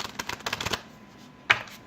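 Playing cards being shuffled: a quick burst of close, crisp riffling taps, a short pause, then one sharp snap as the deck settles, quiet overall.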